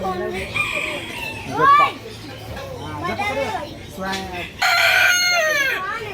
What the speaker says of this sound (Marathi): कुठली? ब्रह्मा कोंबडी.